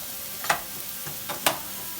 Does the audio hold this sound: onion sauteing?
yes